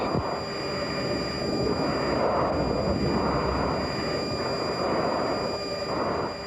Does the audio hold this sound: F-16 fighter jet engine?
yes